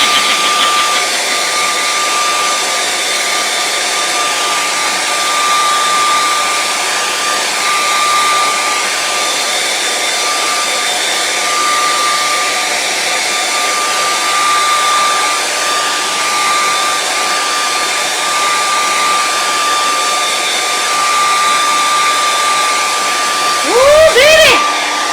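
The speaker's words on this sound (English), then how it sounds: "We're going to give her the hairdryer again." A hair dryer drying a painting blows steadily and loudly the whole time, a constant close whooshing hum with a faint whine, ending with a brief bump.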